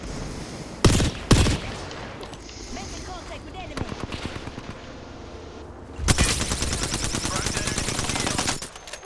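Apex Legends gunfire opens with two sharp close shots, then comes a run of rapid clipped bursts, and a long loud automatic volley closes it out, with players talking in between.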